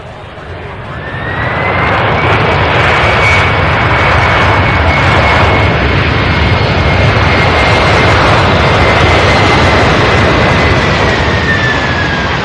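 A large airplane lands at Louisville International Airport with a loud, sustained jet roar and a steady high whine that holds for several seconds before slowly easing, heard close with no talk.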